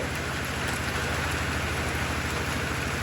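Rain falls steadily on surfaces at a rural farm home, a dense, continuous hiss with no pauses and no voices.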